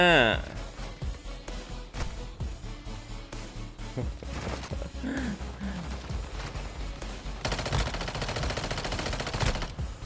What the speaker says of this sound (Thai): โอ้ยิงอะไรกูเนี้ย